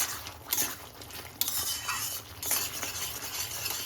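Tomato paste being stirred and sautéed in a pan, with a moderate frying sizzle broken by repeated scraping strokes and occasional utensil knocks against the pan.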